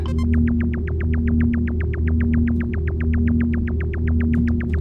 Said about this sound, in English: Well, that's the elevator again.